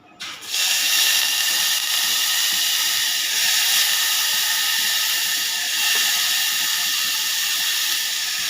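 Potato and carrot sautéing in hot oil with cumin, asafoetida and turmeric: a steady, loud sizzling hiss that starts abruptly and holds evenly throughout without speech.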